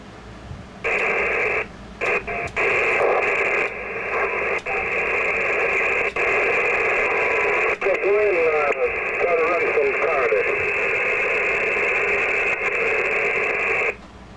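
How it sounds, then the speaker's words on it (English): Loud, steady static hiss from an Icom M-802 marine radio as channels are changed, broken by brief dropouts and clicks, with warbling tones and fragments of distant voices coming through partway. "as I do, you'll get some static"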